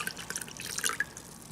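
Scented water steamed from Labrador tea is poured into a jar, heard as close, light splashing and dripping trickles over a short stretch, without any talk.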